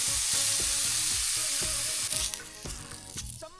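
An egg fries in a hot pan with a steady bright sizzle, and a rhythmic tapping and scraping runs beneath it, close and fairly loud, with no voices.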